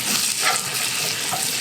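Onions frying in butter in a pan hiss with a steady, close, dense sizzle, stirred now and then, with no voices.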